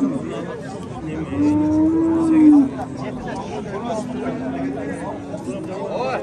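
A cow moos with a long, low bellow close by at the Nookat livestock market, then lows again more softly, amid a murmur of crowd chatter and voices.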